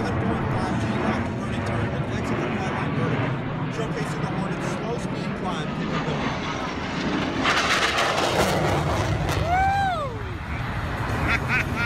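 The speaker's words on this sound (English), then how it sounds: "approaching to demonstrate the maximum performance turn radius of the F-18" An F-18 fighter jet roaring through a maximum performance turn at an air show, a broad loud jet rumble that swells and surges midway, with crowd chatter and an excited shout over it.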